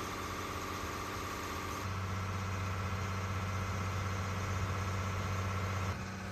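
A passenger boat engine runs steadily on the Kottayam to Alappuzha backwater route, a close, droning hum with a deep low rumble that rises midway and holds, with no voices.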